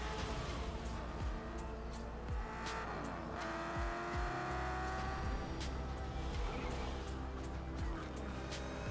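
Race cars roar in the Forza Motorsport racing game, engines revving hard with repeated quick downward-sweeping passes and whines, layered over steady loud engine drone with occasional tire squeal, without talk.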